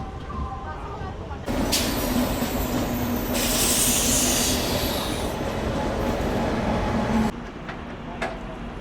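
A MEMU express train runs past Basin Bridge Junction in Chennai with a loud rushing roar and rattling wheels that rise abruptly, hold for several seconds with a screech, then drop away, while someone speaks.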